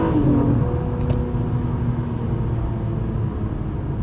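A Honda Accord Coupe V6 pulling hard in a lower gear, a loud steady engine drone with rising tone heard from inside the car, continuous for four seconds with no talk.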